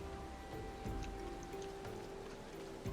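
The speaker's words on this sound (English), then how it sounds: "Rain is refreshing." Steady rain in Final Fantasy XIV falls as a constant wash of drops, with a few brief louder splashes scattered through it. No voices are heard over it.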